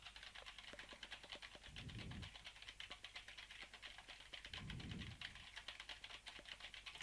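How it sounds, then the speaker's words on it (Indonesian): Rapid clicking of keys on a computer keyboard, steady and continuous, close up, with two brief low thumps in between; no voices; recorded through an Audio-Technica PRO8HEx XLR microphone. "seberapa ketangkep suara ketikannya"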